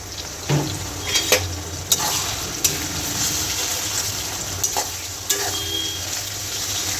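Tomato hits a hot pan for dal tadka, setting off a steady sizzle broken by several sharp clicks and taps of a spoon stirring against the pan.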